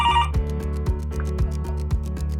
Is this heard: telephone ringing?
yes